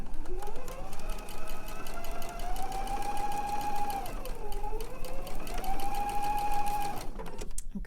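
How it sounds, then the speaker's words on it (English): A sewing machine stitches straight across pinned quilt binding strips, a steady close whirring run that eases briefly in the middle before resuming and cutting off near the end. "I'm going to go ahead and stitch on that line."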